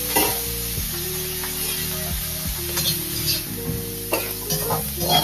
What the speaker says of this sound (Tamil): தேங்காய் போட்டு லைட்டா பண்ணிட்டு சூட்லேயே வதங்கிடும்